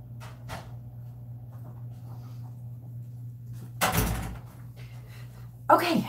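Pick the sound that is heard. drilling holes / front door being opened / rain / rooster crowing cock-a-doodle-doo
front door being opened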